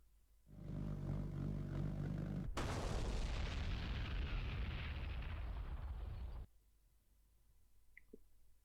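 A SCUD missile strikes the Siri Island target in a modded combat video game: a low rumble swells, then a loud, sudden blast roars and crackles for about four seconds before cutting off into quiet.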